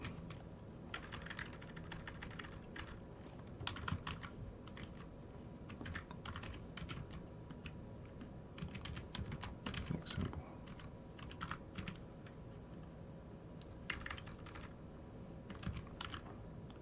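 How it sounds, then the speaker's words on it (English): Fingers type on a computer keyboard at close range, bursts of quick clicking keystrokes with short pauses, continuous over a low steady background hum. "now I'm typing this"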